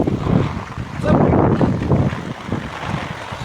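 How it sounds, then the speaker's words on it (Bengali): Gusty storm wind during a Kalbaishakhi rain over farmland in Bangladesh roars in loud, rising and falling buffets close to the microphone, with no voices. "বৃষ্টির সাথে সাথে হালকা ঝড়"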